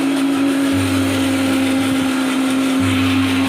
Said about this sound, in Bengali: গ্রাইন্ড করা হচ্ছে মশলা